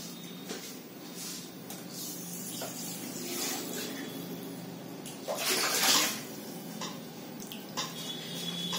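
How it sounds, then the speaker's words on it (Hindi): A kadhai (wok) being rinsed out with plain water, giving steady close splashing and sloshing with a louder surge of water near the end, and no voices. "ये देखिए नॉर्मल पानी से खंगाल ली है कढ़ाई"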